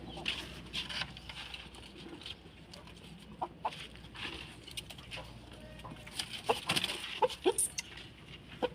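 A young rooster, offspring of a large fighting cock, gives soft clucks and scattered calls amid faint rustling, with irregular bursts growing busier toward the end.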